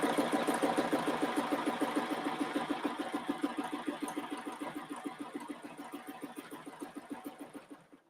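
Close, steady stitching from a sewing machine guided along a quilting ruler runs continuously with a fast even rhythm, gradually slowing toward the end before stopping.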